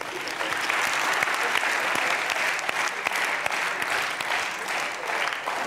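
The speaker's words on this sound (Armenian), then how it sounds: "Ծափարենք Հասմիկին։" Sustained audience applause for Hasmik, a dense, even wash of many hands clapping close by, continuing at full strength from start to finish.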